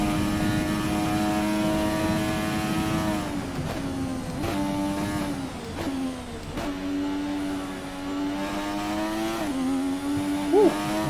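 A race car engine in F1 2020 at the British Grand Prix: a loud, sustained high-pitched whine that holds steady and then dips and climbs through several gear shifts, close and continuous, with no talking.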